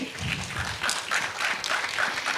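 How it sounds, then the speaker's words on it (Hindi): Audience applause for a singer at a local round of the Arunachal Idol singing competition, steady and moderately loud clapping filling the whole moment, with faint voices underneath. "एक बार फिर से जोरदार तालियां हो जाए"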